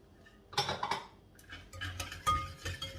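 Metal whisk stirring melted butter in a bowl, a close series of rapid scraping clinks against the bowl's sides in uneven bursts, with no talking.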